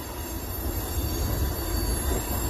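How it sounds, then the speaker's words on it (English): A train rumbles steadily near a road intersection with a low, continuous roar and faint metallic squeal from the wheels, no voices. "And you got a train that pulled up over here."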